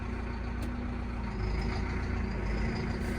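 A Massey Ferguson tractor engine runs steadily at a low idle-like rumble, continuous and fairly close, with no talk over it.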